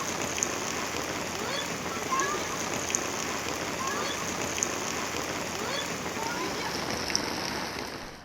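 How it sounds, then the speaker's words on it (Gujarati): Torrential rain in Jetpur, Virpur and Shapar Veraval, Rajkot district, Gujarat, falls as a constant, even wash of water with faint scattered drips, with roads running like rivers. "અનરાધાર વરસાદથી રસ્તાઓ પર નદીઓ વહી છે"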